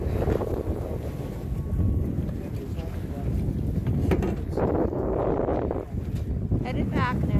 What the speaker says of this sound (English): Wind has died some. I sail back. Going upwind.